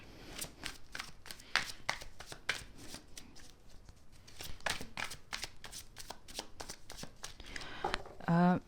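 Tarot cards shuffled by hand in rapid, papery riffles and slaps that run steadily through the whole stretch, close and crisp, with a sharper flurry near the end.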